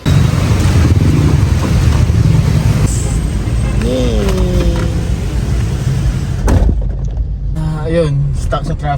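Traffic noise surrounds a vehicle stuck in a jam: a steady low rumble of engines and passing cars, with a brief horn-like tone and some voices in the mix.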